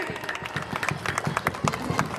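An outdoor audience at a village Republic Day gathering applauds with scattered, uneven claps and crowd murmur. The sound is fairly quiet and somewhat distant.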